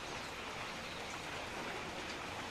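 Steady, dense rainfall fills the whole stretch, a constant wash of drops pattering on surfaces with no voices.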